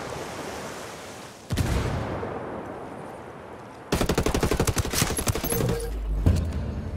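A grenade blast and automatic gunfire in the Ghost Recon Wildlands video game. A heavy burst lands suddenly, then a loud, rapid string of shots follows over a rumbling, noisy background.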